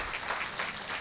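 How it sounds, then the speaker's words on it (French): Audience applauding at a golf fans' tribute gathering, a brief burst of steady clapping from a crowd, moderately distant. "je voudrais que vous applaudissiez Pape Doudou Mbengue et sa famille"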